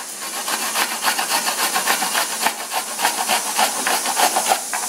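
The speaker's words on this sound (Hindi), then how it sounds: "ऐसे करके हम लोगों को इसको कद्दूकस कर लेना है" Fresh washed apples rubbed against a hand grater make a continuous rapid rasping scrape, close and moderately loud, with no talk.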